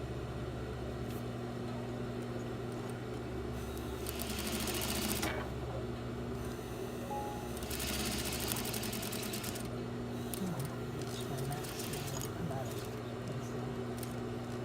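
A sewing machine stitches a top stitch seam, running as a steady mechanical hum with rapid rhythmic ticking throughout, while a person talks over it.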